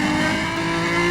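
A car engine and exhaust from the racing game Need for Speed The Run drone steadily at high revs, a loud, continuous buzzing roar with layered harmonic tones and no pauses.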